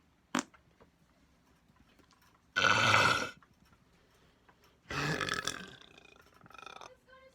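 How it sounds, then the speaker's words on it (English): Two long, loud, rumbling burps come close to the microphone after a brief sharp sound, separated by a quiet pause, with faint breathy noises trailing at the end. "That's the inhale of a burp."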